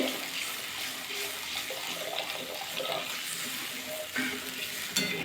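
Hot water poured into a pan of cooking spiced cabbage kofta curry, making a continuous rushing, bubbling sizzle that holds steady throughout with a few small clinks near the end.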